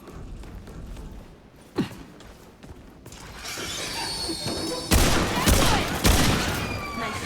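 Gunfire in the video game Remnant 2, a few sharp shots followed by bursts of rapid firing that grow louder and busier toward the end, with faint voices in between.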